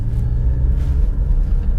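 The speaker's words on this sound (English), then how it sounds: "Hear the bite of the clutch." The engine of a 2020 Porsche 718 Cayman GT4 with a manual gearbox rumbles low and steady as the clutch bites, a close, even drone without revving.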